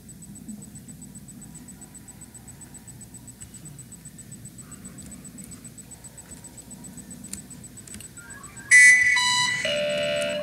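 An alarm blares suddenly in a prison management game, Prison Architect, a loud harsh buzzing tone cutting in after a long stretch of quiet low rumble and continuing to the end.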